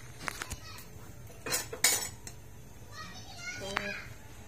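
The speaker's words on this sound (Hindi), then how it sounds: "फिर बस हम जल्दी से इसको चलाते हैं।" A spoon clinks and scrapes in a pan while stirring cumin, mustard seeds and chopped onions, with scattered sharp metallic taps and a few louder clatters, and faint voices in the background.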